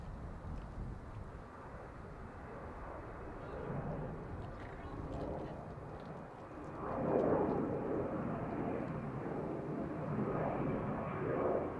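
Airliner on approach to Dublin Airport, a faint distant jet roar that swells and fades under wind noise, with a radio voice talking faintly.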